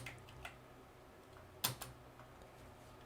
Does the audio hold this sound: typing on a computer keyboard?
yes